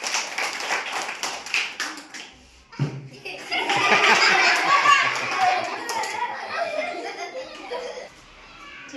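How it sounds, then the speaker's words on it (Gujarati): A class of children claps in a classroom, with quick taps at first, then a louder spell of applause mixed with excited chatter and laughter that fades away. "ચલો તાળી પાડો બધા."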